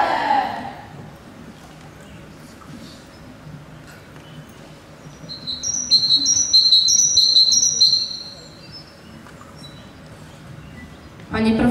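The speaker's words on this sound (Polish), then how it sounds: "przecież to sikorka" A tit (sikorka) sings a series of bright, high two-note phrases, repeated rhythmically for a few seconds mid-clip against quiet background noise, with voices briefly heard before and after.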